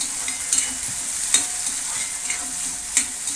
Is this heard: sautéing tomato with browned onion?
yes